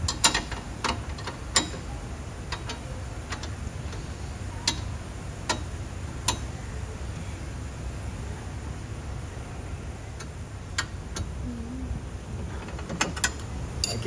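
Wrench ratcheting on a 17mm nut while fitting a Cusco strut bar to a Suzuki Jimny JB64, with a series of faint, sparse metallic clicks and ticks spread over a low steady background hum, no voices.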